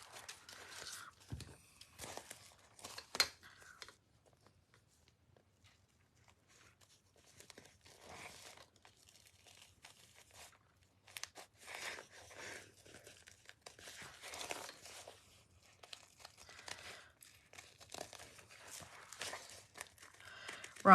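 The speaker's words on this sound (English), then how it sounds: "you want really good scissors because these are struggling a little bit. Because there's quite a few layers that you're cutting through" Scissors chew through a stack of several layers of thin copy paper, giving a run of close, crinkly snips and rustles in bursts with short pauses, some strained and uneven.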